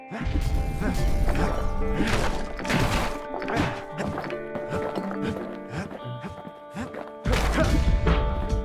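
Frozen figures get smashed apart in the action game Bastion: repeated heavy thwacks and crunching impacts in an irregular rhythm over a droning musical score, with a narrator's voice talking throughout.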